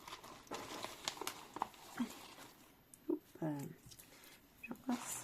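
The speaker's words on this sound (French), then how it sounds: "On fouille dans son petit pochon" Soft crinkling and rustling of small scrapbooking items being handled and shuffled in a small pouch, intermittent and close, with a few quiet voiced murmurs between.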